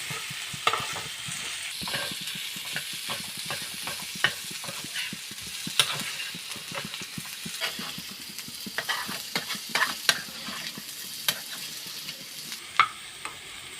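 Chinese potato (koorka) is being stir-fried in oil for a mezhukkupuratti, and a spoon scrapes and taps against the pan again and again. The clinks are frequent and irregular over a steady background sizzle, with no voices.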